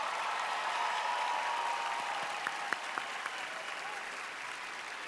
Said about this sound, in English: Please, everyone, give her a big round of applause because she came all the way from Colombia.